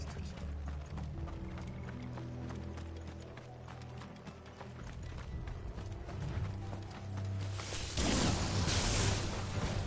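Rapid horse hoofbeats clatter in a steady galloping rhythm under a low musical drone in Final Fantasy XVI, ending in a louder rushing burst.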